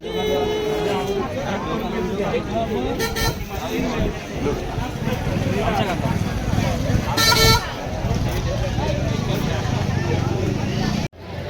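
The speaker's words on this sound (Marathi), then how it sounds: "बघा किती ट्रॅफिक ट्रॅफिक" Busy road traffic near Bhimashankar temple during a crowded Shravan Monday pilgrimage, with car horns honking repeatedly over a constant engine rumble and loud crowd chatter, one longer horn blast standing out near the end.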